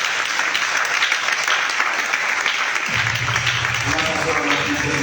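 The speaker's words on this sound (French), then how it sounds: "Est-ce que tu peux encore acclamer le Seigneur?" A church congregation applauds and acclaims the Lord during an evening service, dense sustained clapping filling the room from start to finish, joined partway through by voices and music.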